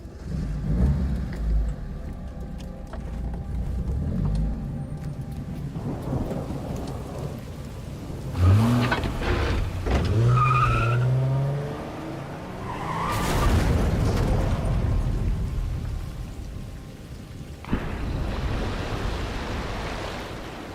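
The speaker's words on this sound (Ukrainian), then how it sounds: "Екран темніє, ми чуємо звук двигуна і аварію" Silent Hill 2 Remake plays a car engine rumble followed by a crash, rough low noise with sharp bursts and a scraping, skidding middle section, loud and without speech.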